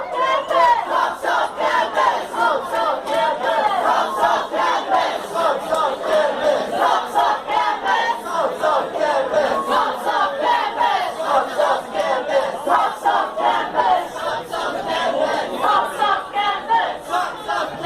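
A protest crowd chants in unison on a busy Sydney street, the rhythmic shouting steady and loud for the whole stretch, with no single voice standing out from the mass.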